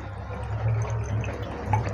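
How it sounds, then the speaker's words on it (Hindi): Water is poured into a cup, giving a soft, steady trickle and light splashing that runs continuously at close range. "यहाँ पे थोड़ा सा मैं पानी डाल देता हूँ इसमें"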